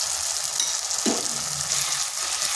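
Cashew paste and turmeric frying in a pan over low heat, a steady close sizzle with a brief scrape of stirring partway through.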